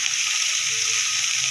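Fish pieces sizzle steadily in hot oil after being flipped to the other side, a continuous close frying hiss with no pauses or voices.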